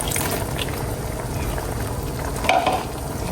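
Mung bean soup with ampalaya simmers at a steady rolling boil in a pot, a continuous close bubbling hiss with a brief louder burst of bubbles near the end.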